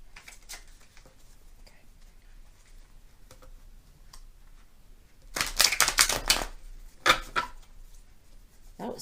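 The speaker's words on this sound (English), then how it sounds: "we're going to shuffle these up pretty good too." A deck of tarot cards is shuffled in two quick riffling bursts, a longer one followed by a short one, after a stretch of faint handling taps and ticks.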